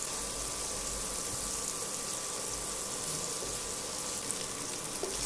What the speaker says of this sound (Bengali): খুব সাবধানে পনিরগুলো আমি ভেজে নেব